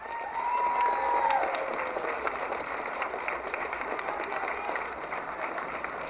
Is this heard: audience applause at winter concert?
yes